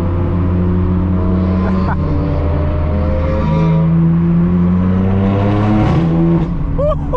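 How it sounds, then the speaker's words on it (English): A BMW S50 engine with a straight-piped exhaust drones loud and close, with sharp rev blips from downshifts near the start and again toward the end. "Oh, the downshifts on the S50."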